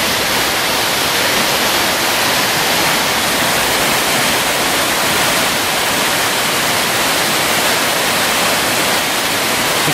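River water rushes at the very edge of the bank beside a riverside area in Tomar, making a loud, steady broadband roar with no pauses and no talking.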